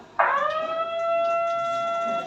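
An earthquake warning siren at a school drill starts abruptly and holds a steady, piercing wail, loud and sustained with no talking over it.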